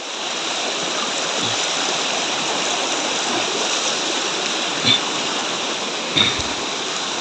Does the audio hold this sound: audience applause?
no